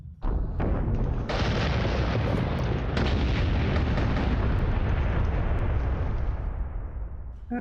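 Space fleet weapons fire in Battlestar Galactica Deadlock, a dense unbroken barrage of booming artillery-like blasts and explosions, loud and sustained throughout with no talk.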